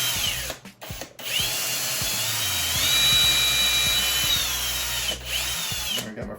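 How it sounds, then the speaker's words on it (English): A power drill whines steadily at close range, revving up and winding down, with short pauses between bursts as holes are drilled to mount a desk laptop arm. "now I'm going to go ahead and drill my holes"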